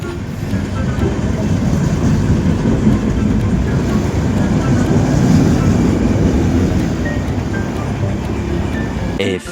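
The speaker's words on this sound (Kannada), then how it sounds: "ಈಗ ಬರ್ತ ನೋಡ್ರಿಕ ಟ್ರೈನ್ ಬಂತು." A train rumbling steadily past a railway crossing, loud and close, with a continuous roar and wheel clatter that holds for the whole stretch before easing at the end.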